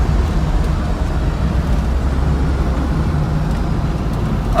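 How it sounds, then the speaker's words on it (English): Cabin noise inside a 1971 Lancia Fulvia driven with the window down: a loud, steady roar of engine, road and wind rumble that holds unchanged throughout, with no talk. "Got the window down, so there's going to be some cabin noise in here."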